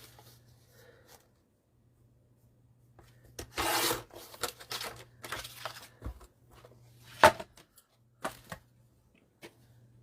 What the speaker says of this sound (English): I'm just going to cut it at 7 1/2,